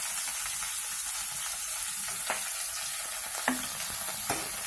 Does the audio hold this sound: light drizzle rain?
no